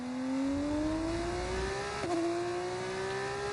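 Race car engines in an F2 racing video game, a steady high engine whine that climbs in pitch, dips briefly at a gear change, then keeps rising, loud and continuous.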